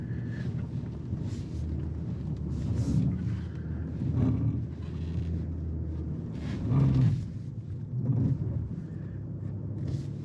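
A 2022 Nissan Pathfinder at full throttle in sand mode off pavement, engine drone and low rumble mixed with wind buffeting on the microphone, steady with a few surges.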